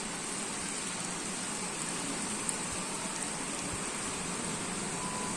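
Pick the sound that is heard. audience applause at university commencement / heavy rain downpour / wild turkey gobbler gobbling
heavy rain downpour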